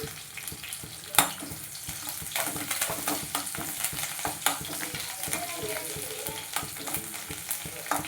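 Crushed garlic frying in a pan with curry leaves for pepper chicken: a constant close sizzle sits under frequent stirring scrapes and occasional spatula taps against the pan.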